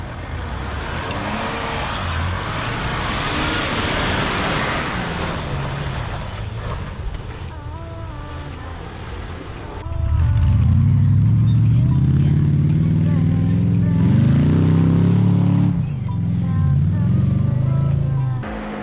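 A Land Rover Discovery D1 on an off-road bush track pulls away gently. A low engine rumble swells loudly about halfway through and holds with slight rises in revs. Faint voices and mixed background noise come first.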